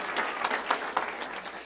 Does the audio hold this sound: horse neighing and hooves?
no